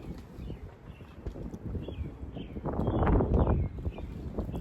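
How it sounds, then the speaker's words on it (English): Wind blows outdoors at a homestead garden, buffeting the microphone with an uneven low rumble that gusts stronger midway, alongside faint scattered clicks and bird chirps. "It's windy out here."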